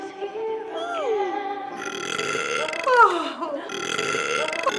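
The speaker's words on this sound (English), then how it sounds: "I'll load baby Grinch burping." A baby Grinch burping sound effect: long, gurgling, voice-like belches that rise and fall in pitch, loud and close, one stretched burp following another over about five seconds.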